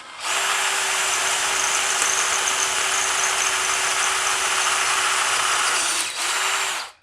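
A power drill runs steadily with a steady whine for about six seconds while boring with a lubricated bit in a shop during a 1979 Harley-Davidson Shovelhead custom tail light build, dipping briefly near the end before spinning up again.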